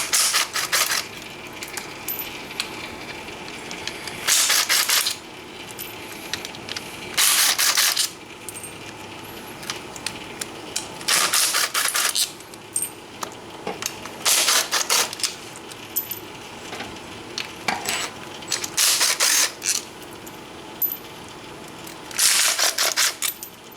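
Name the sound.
ratchet loosening clutch cover bolts on a Yamaha Banshee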